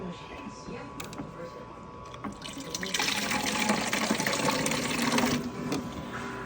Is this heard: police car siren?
no